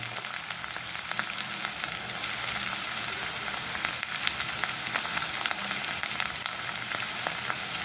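Garlic and ginger fry in hot oil in a pan for beetroot thoran, giving a steady, even crackling sizzle with scattered small pops and no talking.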